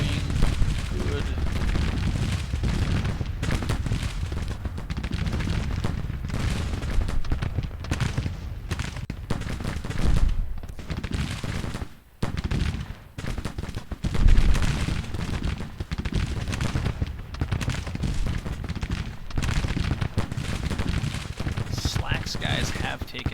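Troops firing muskets in a Civil War strategy video game, a dense continuous crackle of distant volley fire and gunshots rolling on throughout, with someone talking over it.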